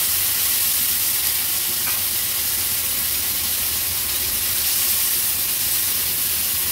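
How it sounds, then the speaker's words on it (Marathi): Chopped tomato hitting a spoonful of hot oil in a pan, giving a loud, steady sizzle and hiss that carries on without a break, with no voices over it. "आता आपण हा चॉप केलेला टोमॅटो तेलावर घालूया।"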